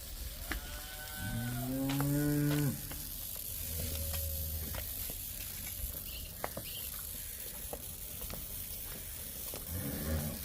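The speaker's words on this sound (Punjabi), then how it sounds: "ਇਹ ਵੀ ਚੰਗੇ ਦੁੱਧ ਵਾਲੀ ਵੱਛੀ ਹੈ" Cattle at a dairy farm where heifers and buffalo are for sale give a couple of deep, close moos early on, followed by quieter lowing against a steady background hum, with little talk.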